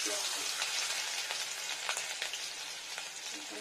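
Ginger crackles and sizzles steadily in hot ghee in a pan, a close, continuous frying hiss with scattered sharper pops throughout.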